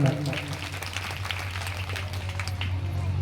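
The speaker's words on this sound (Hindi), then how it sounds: "और जो बेड पर हमारा साथ दे रहे भाई राहुल जी को भी एक बार जोरदार तालियां" Listeners at a Shrimad Bhagavat Katha gathering in Barka village, Bhander, Datia, clap in a sustained, even burst of many hands over a steady electrical hum.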